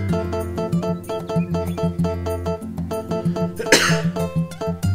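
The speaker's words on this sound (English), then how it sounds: "there was the trademark cough" A character in the farming game Harvest Moon: A Wonderful Life lets out a short cough, a brief noisy burst near the end that rises over looping, bouncy background music.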